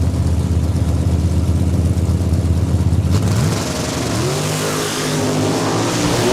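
Drag racing cars, including a black Mopar Challenger, launching side by side at a Saskatchewan raceway: a loud steady engine drone that cuts off abruptly, then a revving, rising multi-engine roar that fades as the cars pull away.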